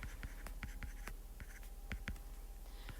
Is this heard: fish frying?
no